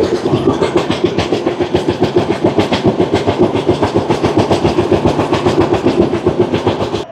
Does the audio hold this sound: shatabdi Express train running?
yes